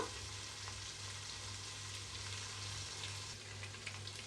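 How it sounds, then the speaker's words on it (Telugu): Green chillies fry in a pan for village-style mutton biryani, giving a steady, even sizzle with a low hum beneath, close and moderately quiet, with no talking. "ఇప్పుడు ఇందులో మనం పచ్చిమిర్చి వేసుకుందాము పచ్చిమిర్చి కూడా కొద్దిగా ఫ్రై అవ్వాలి"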